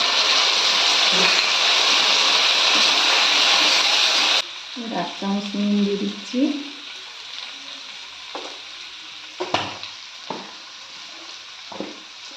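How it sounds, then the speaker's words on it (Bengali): Ground spice paste hits a pan of tomatoes for a potato, eggplant and curry-leaf egg curry, giving a loud, dense sizzle for about four seconds before settling into quieter frying with scattered stirring clatter. "বেটে রাখা মশলাটা দিয়ে দিচ্ছি"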